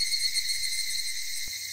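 Cicadas in the Higurashi video game shrilling in dense, sustained high-pitched bands, loud and unbroken throughout with nothing else over them.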